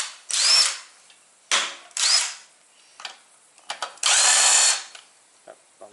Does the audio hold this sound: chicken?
no